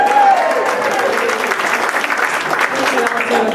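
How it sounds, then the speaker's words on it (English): Audience applause at a Toastmasters district leadership institute on a Saturday morning, loud sustained clapping from a crowded room lasting several seconds, with a voice briefly audible at the start. "Big round of applause for getting up so early on Saturday morning."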